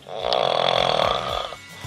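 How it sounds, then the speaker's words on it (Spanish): A sleeping person snores in one long, loud rattling inhalation lasting over a second, close and alone, then the breath trails off into quiet. "escuchamos a una persona dormida que ronca"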